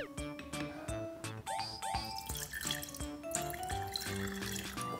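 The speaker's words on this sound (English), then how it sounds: "So let's pour in some vinegar." Vinegar is poured into a glass jar of food coloring for a kids' science experiment, giving bright dripping and gurgling sounds with ringing tones, close and fairly quiet, over a soft musical background.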